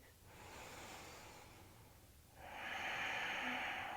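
Slow, deep breaths during a soft after-work yoga flow: a long airy exhale, then a fuller, louder breath close to the microphone, with no talking.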